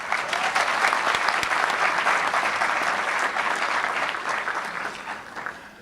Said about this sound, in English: I want you to again acknowledge all those who helped you along the way with a round of applause